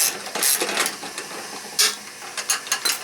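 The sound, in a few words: loosening a nut with a 1/2 inch socket wrench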